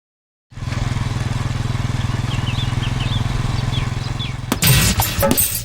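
A motorcycle engine in an animated show idles in a fast, steady, buzzing putter that is close and loud, and a sharp clattering burst breaks in near the end.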